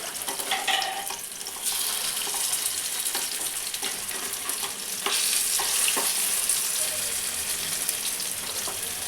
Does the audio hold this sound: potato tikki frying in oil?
yes